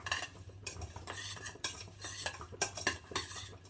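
A plain spoon stirs sugar into a sauce for Thai laab kai, with close, irregular clinks and scrapes against the bowl, with a faint steady hum underneath.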